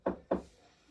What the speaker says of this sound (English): Peter, can you make it knock like this?